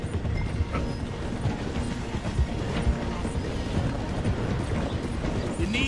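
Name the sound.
train slowing down through a station in a video game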